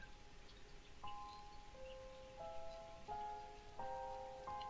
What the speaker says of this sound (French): Tu écoutes le son de la pluie.